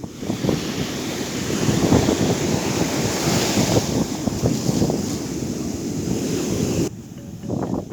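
Ocean waves roll onto a warm-water beach in Côte d'Ivoire. The surf makes a loud, continuous wash with strong wind buffeting the microphone, and the sound eases slightly near the end.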